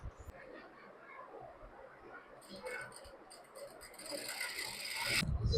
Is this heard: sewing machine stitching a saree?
yes